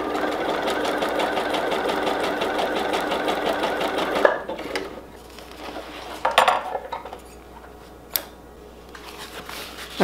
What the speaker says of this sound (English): I'm gonna bring my needle up, put the presser foot down, and just run this really slowly through.